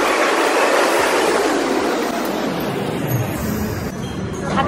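Loud, steady rumble of a London Underground train in motion, a dense roar filling the whole clip with faint metallic clinks beneath it.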